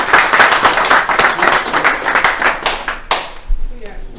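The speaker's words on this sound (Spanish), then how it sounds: "Yo les voy a brindar una aplauso." Rhythmic audience clapping at a gathering in Valparaíso, loud and closely spaced hand claps that fade out near the end, followed by a few scattered sounds.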